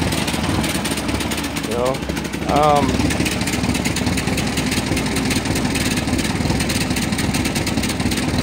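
A 1954 Ferguson TO-30 tractor engine idles steadily and close by, a continuous low rumble running the whole time beneath a brief spoken remark.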